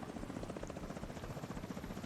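A helicopter in the video game The Division 2 gives a faint, steady rapid rotor thump that stays constant throughout, with nothing else heard over it.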